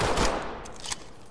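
Gunfire in the tactical shooter Ready or Not, a loud burst of shots at the start that fades into a ringing tail, with a second sharp report shortly after.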